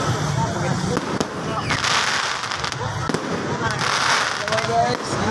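Fireworks burst continuously at Christmas in Santo Tomas, Davao del Norte, a dense crackling barrage with sharp pops and a few whistling rockets, while people talk over the din.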